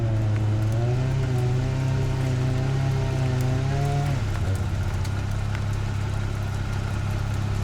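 Hailstones patter on an off-road vehicle on a 4x4 trail, bouncing off the hot engine manifold as a steady crackle over an idling engine that drops in pitch partway through.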